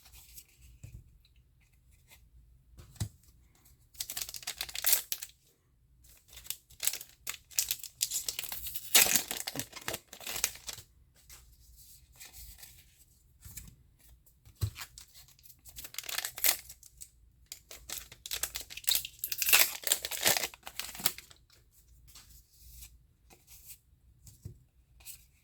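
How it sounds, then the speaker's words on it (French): One Piece trading card booster packs are torn open and handled, giving repeated bursts of crinkling and ripping foil between quieter pauses, close and fairly loud. "je suis un peu en galère des fois pour ouvrir ces paquets-là"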